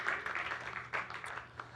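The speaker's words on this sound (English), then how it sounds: "Please, a round of applause for this person." An audience applauds a volunteer coming up on stage at a magic show at Caveat in NYC, a warm, steady burst of clapping from a small crowd throughout.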